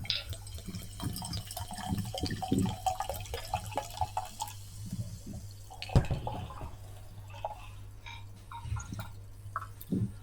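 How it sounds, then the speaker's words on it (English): Sparkling Selters mineral water is poured into a glass, giving a steady fizzing and trickling with irregular drips and splashes over a low background hum, close and fairly quiet. "Millions of bubbles when you bring the water in the glass"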